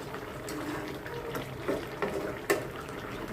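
A pot of hilsa fish curry with potatoes and tomato simmers down, with a soft continuous bubbling and occasional small pops and splashes close by.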